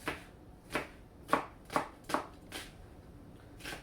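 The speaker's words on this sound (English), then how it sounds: "Onion, cut similar to the cabbage." A knife slices onion on a cutting board for a cabbage and chicken stir fry, giving about eight crisp, close chops in a steady, unhurried rhythm with short gaps between cuts and no talking.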